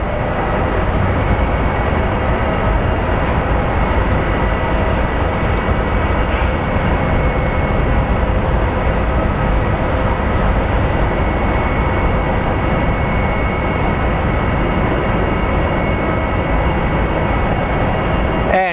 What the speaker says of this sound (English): The 757 is a beautiful plane.